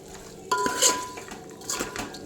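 Marinated soya chunk mixture goes into a pan with whole garam masala spices and ginger-garlic paste, with a clatter of a metal spoon against the pan, some scraping and a faint sizzle.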